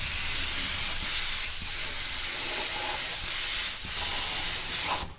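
A spray gun on an airline lays a thin coat of paint onto a fire-damaged 1969 Ford Escort van, giving a steady, loud broadband hiss with slight pulses, cutting off abruptly at the end.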